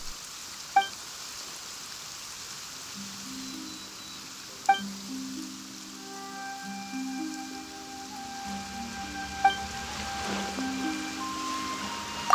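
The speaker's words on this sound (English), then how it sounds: "Why is it raining all of a sudden?" Steady rain patters and hisses throughout in Genshin Impact, with soft sustained music tones and a few bright chime hits on top.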